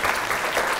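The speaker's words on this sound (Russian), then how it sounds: "Можно не смущаться, аплодировать" An audience at a master class claps, a brief, dense burst of applause from a roomful of people, close and fairly loud.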